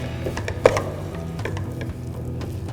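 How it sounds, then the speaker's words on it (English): A thick puran mixture with nutmeg and green cardamom powder is stirred and mixed, giving scraping strokes and soft knocks with one sharper clack early on, over a low steady hum. "Mix this again"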